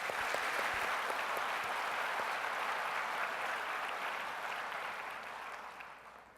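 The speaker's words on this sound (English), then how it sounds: "Let's give him a round of applause." Audience applause fills a corporate software keynote hall, a steady dense wash of clapping that holds strong and then slowly tapers off toward the end.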